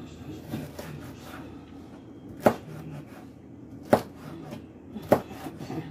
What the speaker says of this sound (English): take this piece of onion and just cut it sideways. You know, just chop it right on up like that there